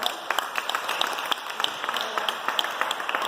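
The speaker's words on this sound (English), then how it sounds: "Give yourself a big round of applause." Audience applause at the close of an evening community talk on positive parenting, with individual claps standing out as sharp, irregular snaps over a continuous patter of hands, fairly close and sustained.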